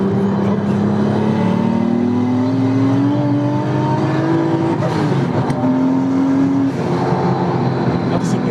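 Lexus fitted with a swapped Toyota 2JZ engine accelerating hard, a loud continuous engine note rising in pitch through the gears, with someone talking over it.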